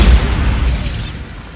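A Bombarda blasting spell exploding in the video game Hogwarts Legacy: a loud, deep boom hitting at once and then rumbling and fading out over a second and a half, with an airy whoosh on top.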